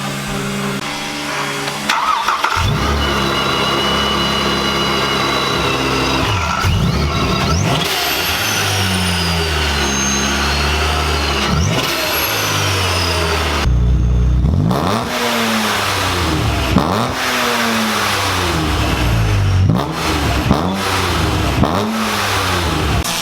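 A Corvette Stingray engine with an MBRP exhaust and catless pipes starts and is revved repeatedly, the loud exhaust rising and falling in sharp bursts between rough idle stretches, close to the listener.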